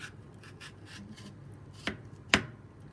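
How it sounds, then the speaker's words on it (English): A knife slicing through the peel of a green plantain: soft scraping cuts followed by two sharp, crisp slicing strokes, close and quiet with no talking. "Slice open the peel."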